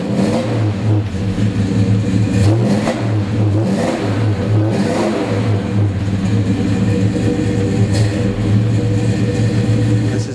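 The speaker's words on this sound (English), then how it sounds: "so I'm gonna go ahead and start it for you right now." A 1970 Chevy Chevelle SS 454 V8 runs loud and steady with a deep rumbling idle, with repeated brief rises in revs over about ten seconds and no talking.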